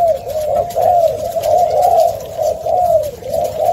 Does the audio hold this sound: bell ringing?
no